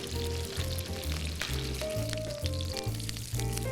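Salmon fillet searing skin-side down in a hot pan, a steady close sizzle and crackle with faint spitting, no talking.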